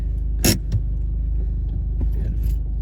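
A manual stick-shift car idles with a low, steady engine rumble, broken by a sharp mechanical clunk near the start and a few softer clicks and rattles inside the cabin as it moves off.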